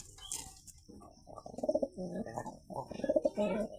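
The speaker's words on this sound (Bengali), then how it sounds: "এটা হচ্ছে গিরিবাজ কবুতর।" A pair of white Giribaz pigeons coo nearby in repeated soft, throaty phrases with brief pauses between them, plus a faint chirp at the start, clear and close with no talk.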